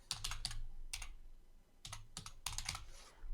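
Keyword typed on a computer keyboard, close clusters of quick key clicks in several short bursts separated by brief pauses.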